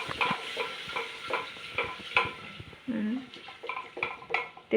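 A paneer mixture fries in oil while a spoon stirs it in quick, repeated scraping strokes with a soft sizzle underneath, and voices talk nearby.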